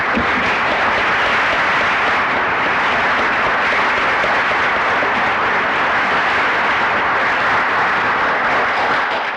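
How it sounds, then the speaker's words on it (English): Conference audience applauds the organizers with a long, dense, even roar of clapping from a large crowd in a hall, loud and unbroken throughout, with no voices on top. "I think we should applaud the efforts of the organizer,"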